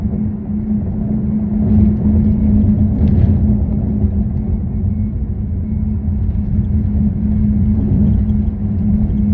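A Tesla driving over a bumpy ordinary road gives a steady, loud low rumble of road and cabin noise throughout, with faint rattling bumps and no talking.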